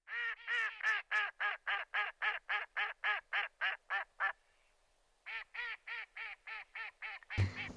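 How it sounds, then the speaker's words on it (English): A duck quacks in a rapid run of loud, nasal calls, about a dozen in a row, pauses briefly, then resumes with several more quacks before a sharp noise at the end. "Duck."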